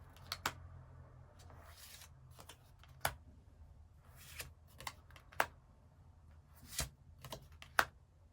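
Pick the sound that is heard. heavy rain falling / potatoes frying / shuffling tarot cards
shuffling tarot cards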